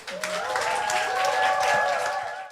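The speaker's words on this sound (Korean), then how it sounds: "우리 박수로 환영하겠습니다." An audience at a church service applauds to welcome a speaker; brief, moderately loud clapping rises quickly and holds, with sustained musical tones ringing beneath it.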